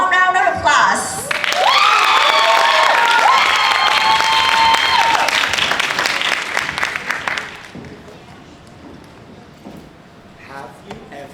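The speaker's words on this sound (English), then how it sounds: "Please give them a warm round of applause." Audience applause at a children's stage performance of a story about the Great White Horse, loud, dense clapping with some cheering and a bright tone, then fading after about seven seconds to quieter scattered sounds.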